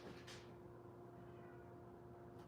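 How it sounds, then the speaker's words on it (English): A cat outdoors lets out a short meow, then the sound falls to quiet steady background hum with a faint second call near the end. "My cat is screaming"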